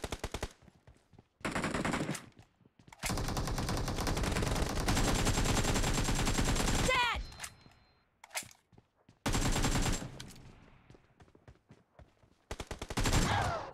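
Shotgun and other gunfire in a video game, heard as several loud, close bursts of rapid shooting, each lasting a few seconds and separated by short silent gaps.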